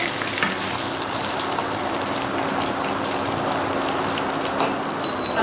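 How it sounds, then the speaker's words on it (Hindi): Okra (bhindi) frying in a pan with a dense, steady sizzle that stays close and even throughout, with faint stirring scrapes and no talk. "अब इसको गरम अच्छे से फ्राई होने देंगे एक बार इसको चला देंगे अच्छे से"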